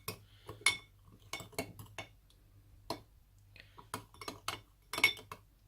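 A spoon gently mixes yeast into warm sugared water, making scattered light clinks and taps against the container, quiet and close, with short pauses between strokes.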